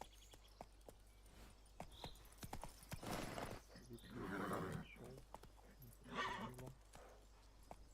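Roach the horse galloping in The Witcher 3, with rhythmic hoof clip-clops running steadily through the clip and a soft neigh or whinny, heard under a man's speech.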